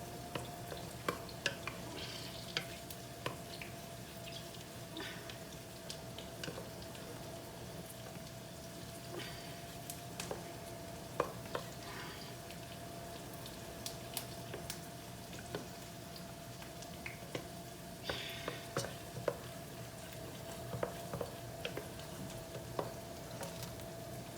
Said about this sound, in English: I'm going to add more broth and continue stirring